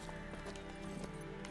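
Horse hooves clattering in a rapid gallop in a Witcher-style video game on Xbox One, continuous and fairly close over game background sound, no talk.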